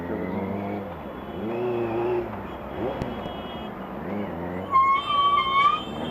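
A 2018 Benelli 600i ABS motorcycle engine revving to high RPM, rising and falling harmonic whine in several surges, with a sharper high-pitched tone briefly layered over near the end.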